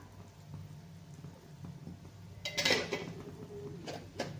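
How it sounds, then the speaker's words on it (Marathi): Wheat flour is roasted in a little oil in a pan for a coconut kheer. Quiet, low scraping gives way to a brief cluster of louder utensil clatter and a last knock near the end. "थोडंसं तेल टाकून आपण ही पीठ चांगलं भाजून घ्यायचंय आपल्याला।"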